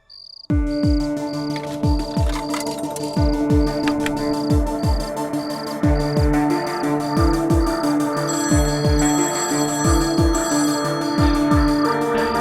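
A phone rings with a repeating electronic bell-like tone in regular bursts, loud and close, layered over a background score with plucked, descending notes.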